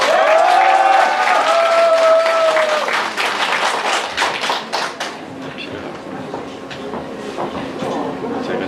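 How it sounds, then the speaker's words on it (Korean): Large audience at a political party's founding ceremony clapping and cheering at length, a dense, loud wash of applause that gradually thins into scattered claps, with a voice speaking over the start. "이 역시 동의하시면은 큰 박수로 환영해 주시기 바랍니다."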